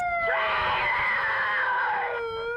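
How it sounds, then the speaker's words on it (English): Protesters opposing the far-right Proud Boys at a media conference let out a loud, sustained high-pitched scream lasting about two seconds, rising sharply and then cutting off. "Amid the screams of their opponents"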